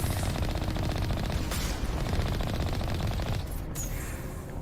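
Heavy turrets in the video game Mass Effect fire in a sustained rapid burst, a dense continuous rattle of shots that runs almost the whole time, briefly broken by a couple of sharper blasts.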